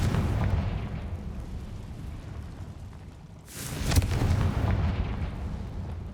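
A Confringo spell explosion in the video game Hogwarts Legacy: a loud, sustained rumbling blast that fades briefly, then a sharp burst flares up again into a dense roaring rumble.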